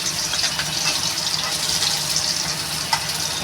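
Curry being poured into a pan of browned garlic gives a steady, loud gushing sizzle that holds evenly throughout with no voices.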